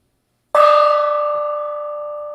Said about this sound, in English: Gong hit number 5.